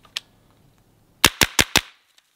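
An EPC-9 carbine fires one sharp shot, then after a pause a quick string of four loud, evenly spaced shots close by, with no talking.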